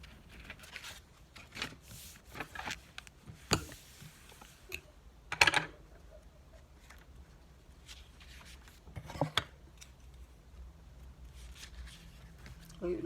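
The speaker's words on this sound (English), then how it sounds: "So fold to the middle." Paper pages of a book being folded toward the middle, giving soft scattered rustles, creases and taps at close range, with a voice talking quietly between them.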